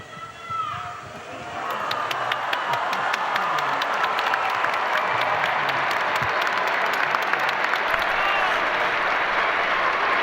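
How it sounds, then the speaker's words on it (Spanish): Large crowd in St. Peter's Square applauding after the papal Urbi et Orbi blessing, swelling from a faint start into loud, sustained clapping and cheering across the open square. "Y se eleva el aplauso en la plaza de San Pedro."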